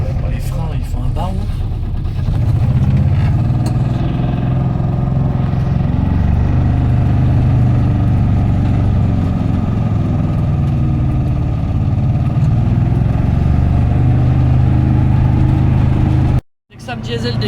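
An Aixam E-City electric microcar drives with a steady, loud low drone and road rumble that holds for about sixteen seconds before cutting off abruptly, with muffled voices inside the cabin.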